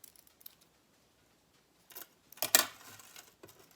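Scissors cut through a band of paper flowers in a couple of soft, brief snips near the end, faint and isolated against quiet handling noise.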